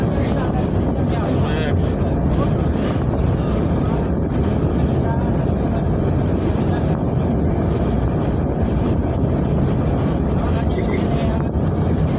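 Sea waves crash along the shore in a loud, continuous roar buffeted by wind, with a voice talking over it.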